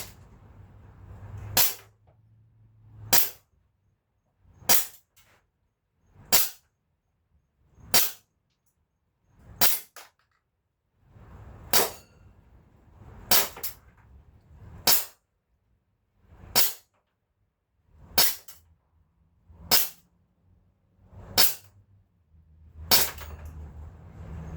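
Barra 357 2.5-inch CO2 pocket pistol fired one shot at a time: about fifteen sharp, loud pops at a steady pace of roughly one every one and a half seconds, with faint low handling noise between shots.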